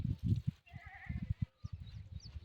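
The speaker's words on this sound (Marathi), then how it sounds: "बकरीचा आवाज येतोय, बकरीचा आवाज." A goat bleats in short wavering cries at a distance, repeated a few times over low thumping rural background noise near a house terrace.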